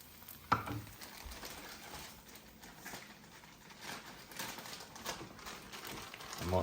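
Breakfast being stirred in a frying pan as cheese is mixed in, with soft sizzling and scraping, rustling stirring strokes going on steadily and a sharp clack near the start.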